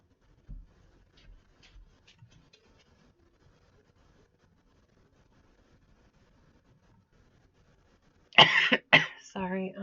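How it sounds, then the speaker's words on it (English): A person coughs harshly several times right into the microphone, loud and close, after a few seconds of faint rustling and near silence. "I know I keep coughing into the mic"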